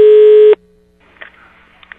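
A loud, steady telephone busy-type signal tone sounds for about half a second while a call is being placed, then cuts off, leaving a faint line hum and quiet clicks.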